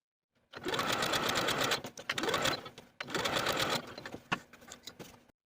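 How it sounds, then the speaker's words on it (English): A domestic sewing machine runs a long basting stitch along a sleeve-cap seam for a 1960s tie-collar top, whirring loudly in steady bursts with brief pauses between runs and no talking. "I'm going to sew from single notch to double notch with about a 1/2 inch seam allowance using the longest stitch on my machine."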